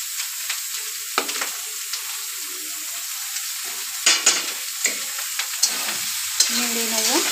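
Pre-cooked pulao rice being stirred in a hot pan: a soft sizzle underneath, broken by repeated scraping strokes and clanks of a spatula against the pan, closer and louder toward the end.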